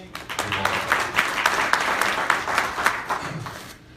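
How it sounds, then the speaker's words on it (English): Audience applause at the NAB Show in Las Vegas during a product unveiling presentation, a dense round of clapping that swells and then fades out. "another round of applause"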